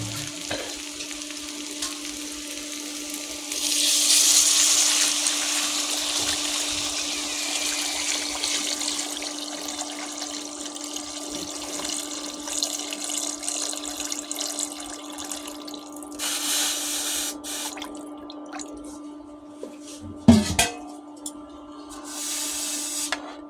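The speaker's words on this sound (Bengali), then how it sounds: "তো আমি এখানে পরিমাণ মতো জল দিয়ে দেবো।" Water is added to a fish curry cooking in a pan, giving a soft sizzle and splashing pour, then a steady simmering hiss with a brief clatter near the end.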